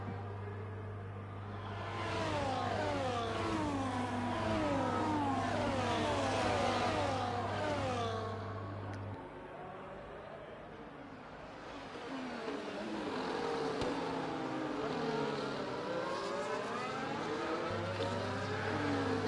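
Race car engines in the Power Grid racing game at Abu Dhabi whine and rev through a turn, pitch rising and falling across several cars, with a steady low drone underneath.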